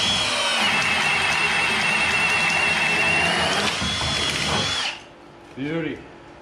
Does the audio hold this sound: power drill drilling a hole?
yes